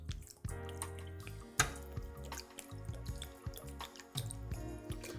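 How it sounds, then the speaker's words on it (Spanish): Plain water pours into a pot over pears and sugar, a steady splashing and trickling stream with a few sharper splashes, close and moderately loud. "Y ahora vamos a colocar agua natural hasta cubrir."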